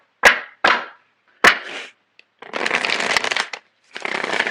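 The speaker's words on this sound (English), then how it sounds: "So I'm going to shuffle the cards." Tarot cards are shuffled up close: three sharp riffling bursts, then two longer, loud rustling shuffles, with no one talking.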